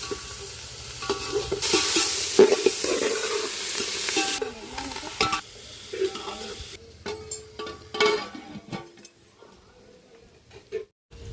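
Cut vegetables fry in hot oil while a spoon stirs them. A dense sizzle fades partway through, leaving scattered scraping and clinking against the pan.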